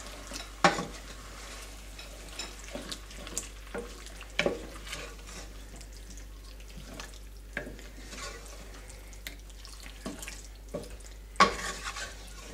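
Homemade meat sauce with canned tomato sauce being stirred in a pot over medium heat, a soft sizzle with scraping stir strokes and occasional spoon knocks against the pan, fairly quiet with no talking.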